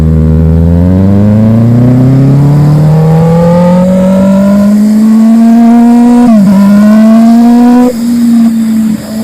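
A Kawasaki ZX-6R motorcycle being ridden pulls hard through rising revs, its engine note climbing steadily in loud, close, buzzing tones before a quick dip and easing off near the end, with no talk.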